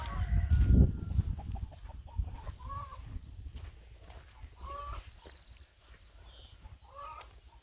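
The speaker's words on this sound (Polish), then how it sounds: "Kury." Chickens cluck and murmur nearby in short repeated calls, over a low rumble of outdoor background noise.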